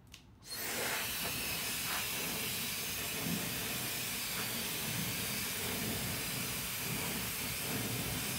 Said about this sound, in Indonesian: Kalian gak bakal dengar karena anginnya kenceng pol